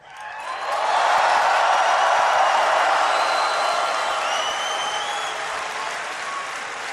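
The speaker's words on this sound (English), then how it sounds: "I want everyone here to give a big cheer to all of your friends watching at home." A large crowd at the BlizzCon 2013 opening ceremony cheers and applauds in a loud, sustained roar that swells fast and holds steady with scattered whoops.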